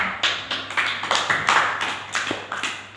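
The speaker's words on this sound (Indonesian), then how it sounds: "Tepuk tangan untuk perwakilan kelompoknya." Students clap in a classroom after an Islamic jurisprudence lesson, honoring a group representative with a rhythmic round of distinct, evenly spaced claps that ring out close by, each burst sharp and separate.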